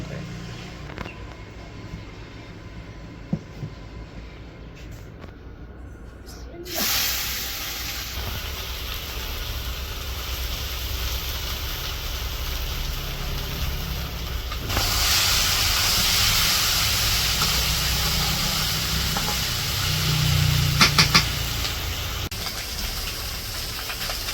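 Fish frying in a pan for a Bangladeshi village-style fish chorchori, a steady hiss and gush that grows louder partway through, with faint background voices now and then.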